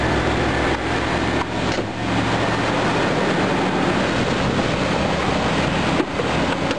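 A 1978 Ford LTD engine with a vacuum leak runs at a steady, loud, close idle, a dense hissing roar with a low rumble and no voices.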